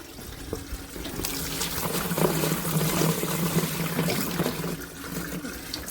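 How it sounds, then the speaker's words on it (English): Water is poured down a household drain, a steady gushing splash that swells in the middle and then tapers, with no one speaking. "And I must clean that drain. Throw some water in there."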